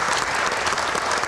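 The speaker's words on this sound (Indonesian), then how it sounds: "Tepuk tangan untuk rekan-rekan mahasiswa yang hadir di studio." Studio audience of students applauding during a televised Indonesian election Q&A show, a dense, steady wash of many hands clapping at once, loud and continuous with no voices on top.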